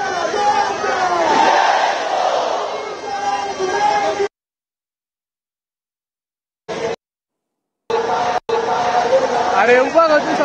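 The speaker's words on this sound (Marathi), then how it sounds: "मोठी गर्दी पाहायला मिळते" A dense crowd of Ganesh devotees at the Lalbaugcha Raja immersion roars with shouts and chants, loud and close. The noise breaks off into long silent gaps, then returns as loud as before.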